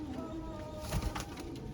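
A pigeon from a pair being sold coos briefly and faintly, one soft low call rising mid-way through a short stretch of quiet background.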